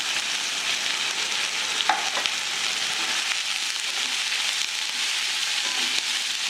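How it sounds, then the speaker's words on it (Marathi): Onion and curry leaves fry in hot oil with asafoetida while being stirred in a pan, a steady close sizzle with a few scraping clinks of the spoon and no talking. "आता आपण कांदा एकदम चांगला परतून घेऊ"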